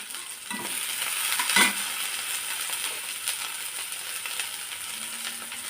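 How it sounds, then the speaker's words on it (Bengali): Bitter gourd slices fry in a pan with a steady, close sizzle, a brief scrape or stir near the middle, and no talking. "আমি করলাটা ভেজে নেবো"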